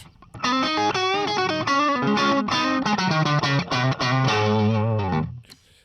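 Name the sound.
electric guitar through Tonex Fender Bandmaster reverb capture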